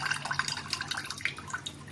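Water drips and trickles as fresh chhena is gently squeezed by hand for rasmalai, a quick run of small, close, irregular drops and splashes.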